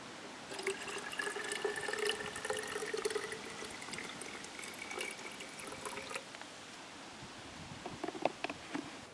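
Filtered water poured into a drinking cup at a canoe campsite, a steady trickling splash running for several seconds and easing off, with a few sharper drips near the end and no talk.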